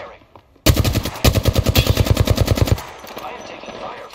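Gunfire in the game Apex Legends, an opening shot followed by a rapid, loud burst of automatic fire at a steady fast rhythm for about two seconds, then fading echoes.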